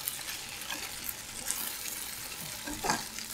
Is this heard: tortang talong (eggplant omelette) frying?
yes